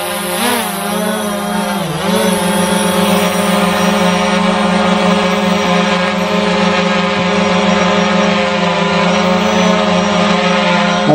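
A FIMI X8 drone, launched by hand outdoors, lifts off with a loud, steady high-pitched whine of its propellers that wavers briefly at the start, then holds constant and close throughout.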